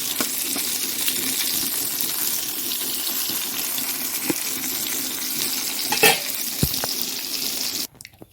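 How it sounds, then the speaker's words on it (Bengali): Eggplant slices fry in a generous amount of oil, giving a continuous close hiss and sizzle with a few sharp clinks of a utensil before it cuts off. "হয়ে গেল বেগুন ভাজা।"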